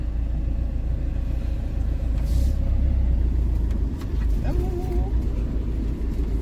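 A self-built camper van pulls away and drives off, its engine giving a steady low rumble close by with continuous road noise throughout and a brief squeal partway through.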